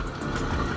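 A cold Mercedes Geländewagen 350 with an OM 603 diesel engine and twin exhausts idles on a near-freezing day, giving a steady, loud, low rumble that holds for under a second without any speech.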